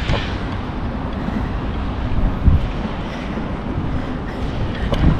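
Wind buffeting the microphone with a constant low rumble and rush, broad and steady without pauses.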